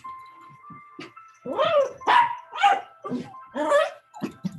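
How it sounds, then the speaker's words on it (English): A dog barking indoors, a few soft yips followed by a run of about five louder, sharp barks in quick succession, fairly near. "Oh, I wish there was a button to silence my dog sometimes."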